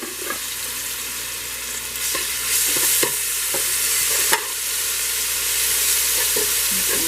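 Green seasoning for salmon cakes sizzles in a frying pan while a utensil stirs it, making a steady close hiss with periodic scraping knocks against the pan.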